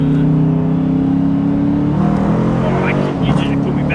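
A 2020 Dodge Challenger R/T with a 5.7L HEMI V8 accelerates hard with a loud, steady engine drone heard from inside. A quick paddle-shifted gear change drops the pitch about halfway through. People talk over the engine.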